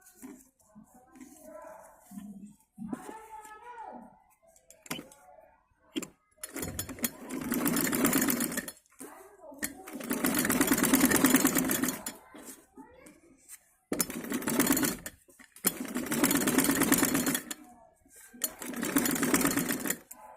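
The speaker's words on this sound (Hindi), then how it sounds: "अब हम यहाँ पे सिलाई करेंगे।" A sewing machine stitches a kameez kurti in several long, loud running bursts separated by pauses, with quieter handling noises and brief speech between the runs.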